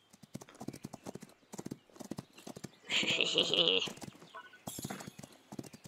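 A racehorse in Rival Stars Horse Racing gallops in quick hoof clops, with a loud neigh midway, and a person chatters and cheers over the hoofbeats.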